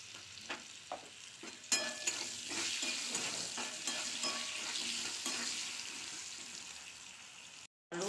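Potatoes fry in hot oil with a steady close sizzle, broken by several sharp scraping stirs of a spatula early on, before the sound cuts off abruptly near the end; no talking.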